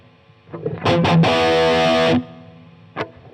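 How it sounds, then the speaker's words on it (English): An electric guitar played through an effects patch with distortion and reverb: a few picked notes, then a sustained, saturated chord ringing loudly for about a second before cutting off, followed by one short stab. "Nice little bit of reverb, just a bit of ambience, that's all we need."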